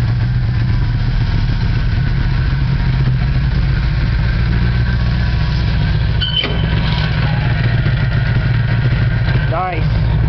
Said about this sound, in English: this car's real loud